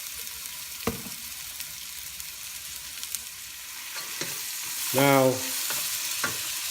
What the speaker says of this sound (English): Now we'll add garlic. Let's give 30 seconds to cook it.